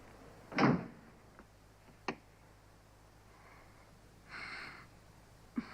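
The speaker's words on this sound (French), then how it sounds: "Fermez la porte." An indoor door is pushed shut with one sharp thud, followed by a fainter click and light shuffling in an otherwise quiet room.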